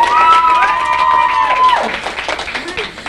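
A studio audience applauds and cheers a guest on a stage show, with a steady wash of clapping and crowd noise and a high whistling tone sliding through the first half before the cheering trails off.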